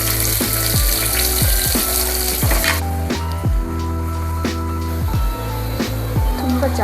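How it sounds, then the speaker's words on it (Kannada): Onions frying in oil in a pan for chicken curry: steady, loud sizzling with a series of sharp scraping stirs, and the hiss settles down partway through. "ಈರುಳ್ಳಿ ಹಾಕ್ತಾಯಿದ್ದೀನಿ."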